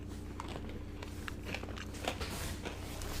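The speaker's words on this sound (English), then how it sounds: "I don't have my mouth open when I'm chewing, but these pretzels are really crunchy." Crunchy pretzels chewed close to a microphone, giving a run of faint, irregular crunches and bites over a constant background hum.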